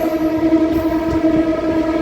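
A DEMU train runs across a bridge over the Hyderabad ring road, giving a steady, loud rumble with a sustained tonal hum and faint rhythmic wheel thumps throughout, no voices.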